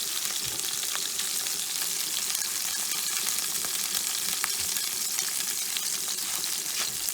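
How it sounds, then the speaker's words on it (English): Mushrooms frying in a pan of oil give a steady, close sizzle that lasts throughout, with faint stirring and occasional crackles and no talk. "Little sip of oil. And just throw the mushrooms in there."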